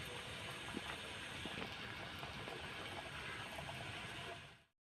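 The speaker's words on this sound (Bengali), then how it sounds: "উল্টে পাল্টে লাল করে ভেজে নেব।" Chicken pocket singara fry in hot oil in a kadai, producing a continuous soft hiss and crackle at a steady level up close before the sound cuts off abruptly at the end.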